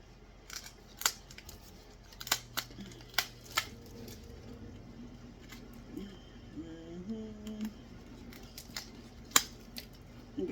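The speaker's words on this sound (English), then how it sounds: "I'm going to cut the old pot off" Scissors snip through an old plastic plant pot during repotting, giving scattered sharp clicks and cuts at an uneven pace, fairly quiet and close over a low steady hum.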